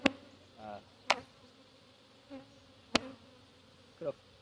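Honey bees buzz close by around a hive in short passing bursts, interrupted by a few sharp knocks and clicks, with a soft hum between them.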